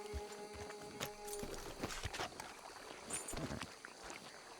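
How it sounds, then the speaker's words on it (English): Hooves of a tired horse clip-clop in Red Dead Redemption 2, a quick uneven patter near water, fairly quiet under a dense wash of background noise. "O cavalo já cansou já."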